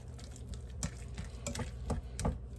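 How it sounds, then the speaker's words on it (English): Garlic powder being mixed into food in a pan: soft scraping stirs and light sizzling, several brief strokes in irregular rhythm, quiet and close with no talk. "Some garlic powder. And just mix that up."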